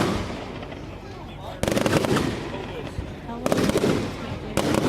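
Firework cakes going off at a Delaware City fireworks show, loud rapid crackling volleys bursting in separate waves, with people talking nearby between and over the shots.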